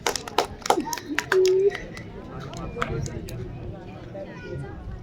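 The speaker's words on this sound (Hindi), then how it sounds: "तालियां तालियां तालियां।" A few sharp hand claps from a small group at a Hindi storytelling performance, mixed with chatter and a voice, then settling into a low murmur of people talking.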